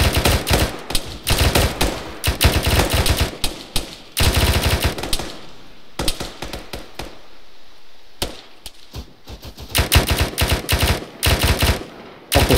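Bursts of automatic gunfire and single shots crack loud and close in an Arma 3 combat scenario, in dense clusters with a short lull midway before the firing resumes heavily.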